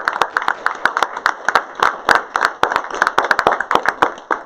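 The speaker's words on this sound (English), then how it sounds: "Let's give Clear Springs High School one more round of applause." Audience applause for a high school at a veterans celebration and pitch competition: sharp, fairly sparse claps from a modest crowd, steady and moderately loud for several seconds.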